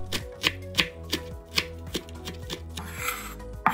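Knife chopping a quarter of a red onion on a board in a home kitchen, a series of crisp, fairly regular thuds with music playing underneath and no talking.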